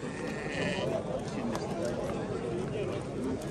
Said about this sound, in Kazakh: Мына койлор кимден экен?